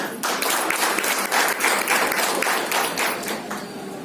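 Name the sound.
applause at a business meeting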